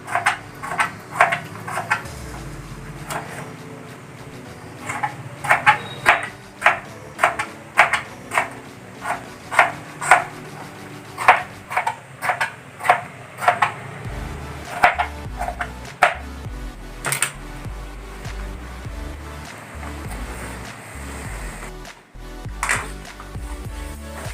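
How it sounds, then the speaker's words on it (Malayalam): A knife chops tomato into thin slices on a cutting board, giving a steady series of sharp taps in quick runs with short pauses between them and no talking. "തക്കാളി നന്നായി കനം കുറച്ച് നമുക്ക് കഴിഞ്ഞെടുക്കാം"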